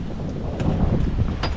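Strong wind gusts across a beach, buffeting the microphone in a loud, steady low roar that swells slightly midway, with no one speaking.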